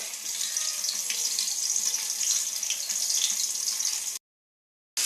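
About half a kilo of chicken fries in hot oil with a continuous bright hissing sizzle, close and steady for about four seconds before cutting off.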